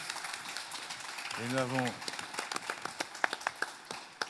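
Scattered, sparse claps begin and slowly build into thin applause for the president at a general assembly hall, with a voice heard before the clapping starts.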